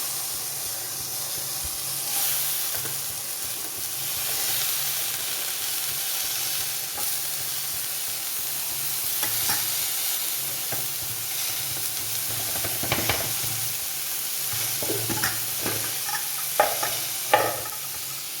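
Chopped Chinese potatoes sizzling steadily in a hot pan, a constant hiss with occasional clinks and scrapes of stirring toward the end.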